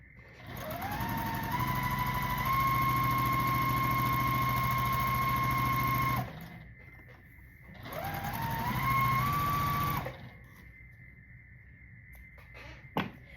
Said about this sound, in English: we'll sew a G to the other side